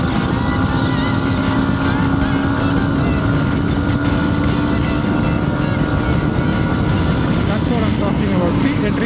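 A Honda CB350RS motorcycle engine strains at around 100 km/h on a highway ride, a loud, continuous drone mixed with heavy wind rush.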